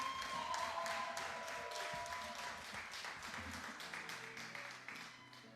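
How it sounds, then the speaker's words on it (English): Audience applause for the poet Lord Chen at a publication celebration, thick clapping that starts strong and slowly thins and fades toward the end, with a few isolated claps standing out. "Can we clap it up one more time for Lord Chen?"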